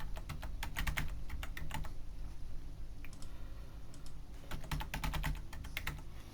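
Password being typed on a computer keyboard while configuring a FortiGate firewall, two quick bursts of close, crisp key clicks separated by a short pause, quiet and with no voice.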